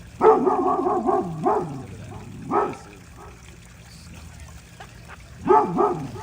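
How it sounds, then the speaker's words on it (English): A dog barks at a snowman in three short bursts of loud, close barking separated by quieter gaps, with faint background noise between them. "She's barking at the snowman."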